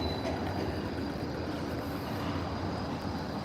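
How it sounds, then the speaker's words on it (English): A Melbourne tram rumbles past near the Royal Exhibition Building, with a steady, loud rolling roar of wheels on rail throughout and no voices. "This is Melbourne tram."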